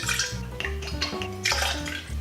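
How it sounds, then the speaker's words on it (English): Amaretto pours into a cocktail shaker with a steady, close gurgling trickle and light splashing against the container, continuous for a couple of seconds with no talking. "pour 8 centiliters of Amaretto in there"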